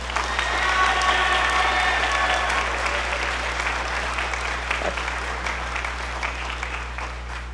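A concert audience at a school spring band concert gives a round of applause, dense even clapping from the crowd that holds steady and tapers slightly toward the end.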